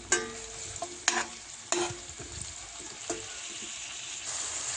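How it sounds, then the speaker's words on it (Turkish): Leeks sizzle alongside onions and carrots in a pan, broken by several sharp stirring scrapes and a low, steady frying hiss in between. "Önce bir pırasamızı koyuyoruz. Şöyle karıştırıyoruz."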